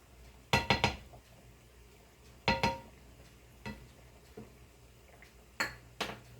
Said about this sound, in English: let me stir this first